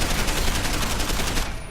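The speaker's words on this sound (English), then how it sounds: "Bit of blind fire." Blind-fire gunshots in Deus Ex: Human Revolution form a dense, continuous barrage of rapid, loud shots, close and steady throughout, fading slightly at the end.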